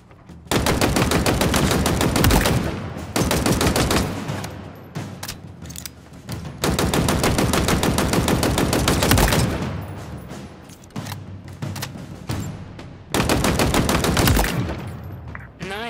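Rapid automatic gunfire at practice targets in Halo Infinite, sustained bursts of dense, loud shooting broken by short pauses, with one long burst in the middle and shorter volleys toward the end.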